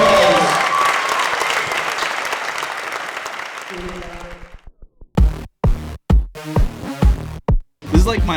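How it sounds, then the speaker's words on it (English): Loud applause from a crowd fills the first few seconds, then fades out as a person starts talking in short bursts. "round of applause."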